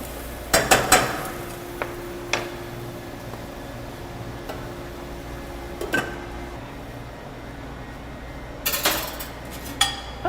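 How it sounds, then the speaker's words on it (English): Metal utensil clinking against a pot while stirring mushrooms, several sharp scrapes and taps early on, a few isolated knocks, then a cluster of clanks like a lid going on, over a quiet low kitchen hum. "So I'm going to stir this up and then I'm going to cover it"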